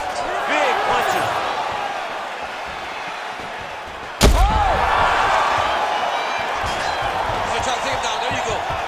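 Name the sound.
fighter slammed to the canvas in UFC 5 video game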